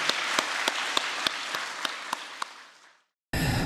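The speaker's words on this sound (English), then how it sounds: "let us extend our profound gratitude and honor to True Mother with a thunderous round of applause for this outstanding victory" A large audience gives a sustained round of applause with a few louder claps standing out, the sound fading away and cutting to silence before a brief burst of noise returns.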